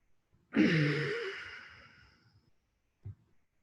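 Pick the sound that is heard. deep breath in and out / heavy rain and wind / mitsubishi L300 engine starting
deep breath in and out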